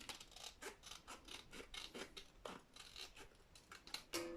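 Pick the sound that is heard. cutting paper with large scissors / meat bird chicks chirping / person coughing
cutting paper with large scissors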